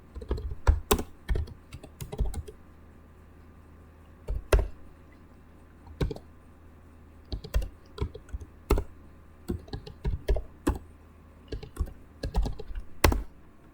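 A password is typed on a computer keyboard in quick, irregular bursts of crisp key clicks separated by short pauses, close and fairly quiet, with no talking.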